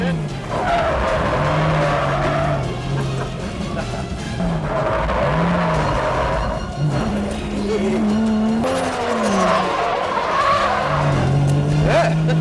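A Chevrolet Camaro drifts under a handbrake pull, its tires squealing in long wavering screeches over a loud, constant engine roar, with talk faintly beneath.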